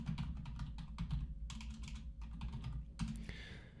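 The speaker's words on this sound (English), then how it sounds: "I am typing, and there we go." Keys tapped on a computer keyboard during a live show, in rapid bursts of clicks separated by short pauses, set against a low steady room hum.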